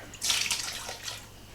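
Water pours into an Instant Pot inner pot in a short burst with a bright splashing rush, tapering off over about a second.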